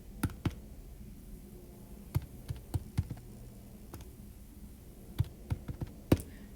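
Numbers are typed into a calculator or keyboard as a series of sharp, separate key clicks at an uneven pace, close and fairly quiet, with no speech.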